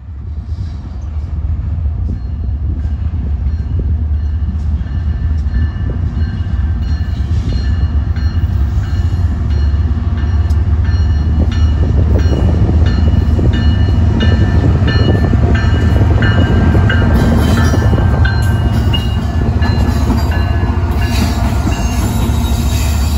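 A long freight train of tank cars carrying gasoline and ethanol rolls past steadily in Decatur, Alabama, with a loud continuous rumble, rhythmic clacking wheels and occasional metallic squeals, heard close by without talk.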